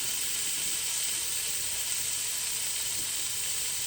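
Fish sizzles steadily in a pan with onion and tomato, a continuous close hiss of frying that holds at an even level with no talk over it.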